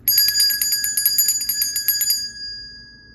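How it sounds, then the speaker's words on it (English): A bright metal bell rings in a rapid run of strikes for about two seconds, then a single sustained tone lingers and fades, loud and close with no talk. "let me ring the bell"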